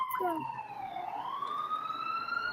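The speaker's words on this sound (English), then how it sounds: "Can you hear that siren?" A siren wails with a slow rising and falling tone, fairly loud and steady, with faint voices briefly at the start.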